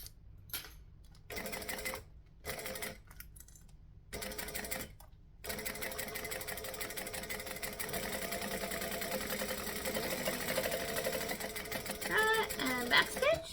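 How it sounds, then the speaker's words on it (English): A home sewing machine runs a straight seam 1/8 inch from a center join on a garment, whirring in short bursts with pauses at first, then stitching steadily and continuously up close. "I am stitching about 1/8 of an inch from the join in the middle."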